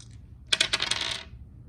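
Dice tumble and clatter briefly across a hard surface during a post-op skills assessment, a quick burst of small rattling clicks that settles within about a second, close and fairly clear.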